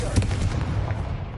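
A Confringo blasting spell fired in Hogwarts Legacy on PlayStation 5, a dense, rumbling burst of blast and crackle that decays steadily over about a second and a half.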